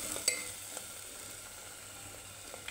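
Ground spices going into hot oil in a pan for a drumstick (moringa pod) vegetable dish; a quiet, steady sizzle with a few faint clinks of a spoon against the pan.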